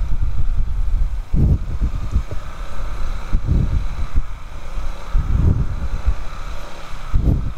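Engine rumble from passing motorcycles at a park parking area in San Jose, Tarlac, several low surges rising and fading over steady wind noise outdoors, fairly close.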